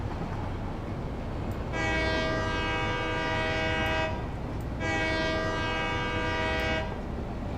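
A train horn sounds twice in the video game Satisfactory, each blast a steady, harmonic-rich tone lasting about two seconds, separated by a short pause, over a low background rumble.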